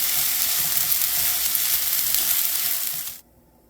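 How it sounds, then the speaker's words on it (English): Egg fried rice made with soy sauce sizzling loudly and steadily in a pan up close, with faint stirring underneath, then cutting off abruptly near the end. "now we have our completed fried rice, egg fried rice."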